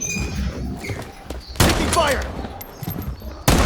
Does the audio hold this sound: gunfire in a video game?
yes